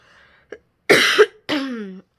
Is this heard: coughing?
yes